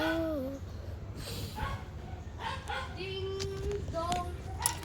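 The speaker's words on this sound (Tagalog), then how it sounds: "Ito yung aso ko." A pet dog in a home gives a few short whimpering yips and soft barks, scattered across the moment amid low background noise and faint voices.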